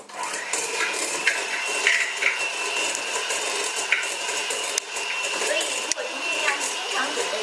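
An electric mixer creams butter and sugar for chocolate brownies, a continuous close whirring, mechanical drone with rattling beater clatter, while a person talks over it.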